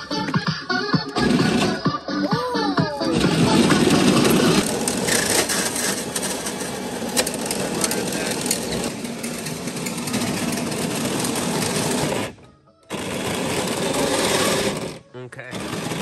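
A toy Jeep running on a 25-volt battery whirs and buzzes steadily with the gas pedal held down, its motor drone continuing under people talking and briefly cutting out twice near the end.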